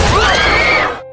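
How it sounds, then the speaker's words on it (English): A race grandstand crowd shrieks in panic in a Final Destination film scene. A loud, piercing, wavering scream lasts about a second before cutting off abruptly. "the audience immediately screams and scatters in panic."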